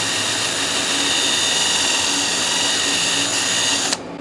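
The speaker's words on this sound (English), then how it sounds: "Wire wheel it." Wire wheel spinning against a hydraulic cylinder port, a loud, steady abrasive whir and grind held close for about four seconds before it cuts off abruptly near the end.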